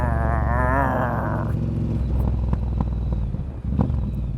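Ducati Monster fitted with a Werkes competition exhaust, heard on the road: a loud, continuous rumbling engine growl that drops in pitch as the bike slows, with a few sharp pops during deceleration and steady wind rush, no talking.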